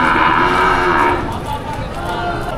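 A large water buffalo (kalabaw) moos loudly and steadily at a livestock market, one long low call filling the first second before easing into a quieter drawn-out tail.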